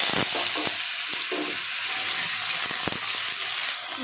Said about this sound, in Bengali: কালো জিরে ফোড়ন দিয়ে আলুগুলোকে ভেজে নিই।